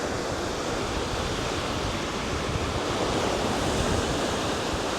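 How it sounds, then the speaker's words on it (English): Ocean surf and strong wind at a beach make a continuous, dense roar that stays steady and fairly loud, with no voices. "the wind's still blowing hard"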